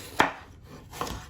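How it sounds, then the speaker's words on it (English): A cheap Temu kitchen knife slices an apple into small pieces, giving two crisp, separate chopping strokes about a second apart, close and clear. "Let's go ahead and just cut some nice little apple pieces"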